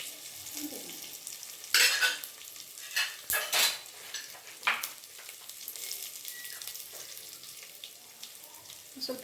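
Curry leaves and green chillies fry in a pan, a light sizzle broken by several sharp spattering bursts and stirring scrapes, with faint clinks of a utensil; no talk.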